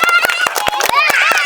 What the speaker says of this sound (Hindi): चलिए जोरदार ताली मारिए तो इनको लिए